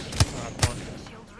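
Two sharp gunshots from enemies in a shooter video game, about half a second apart and moderately loud, each with a short tail, against a quiet background.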